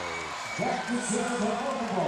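At match point in a Hawai'i versus Louisiana Tech women's volleyball game, an arena crowd swells into a sustained roar of cheering. A commentator keeps talking over it.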